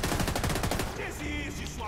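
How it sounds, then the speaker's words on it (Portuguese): Automatic weapon gunfire in the video game Tom Clancy's The Division 2, a dense rattling burst of rapid shots in the first second, then fainter firing under game noise. "Tô levando muito tiro aqui!"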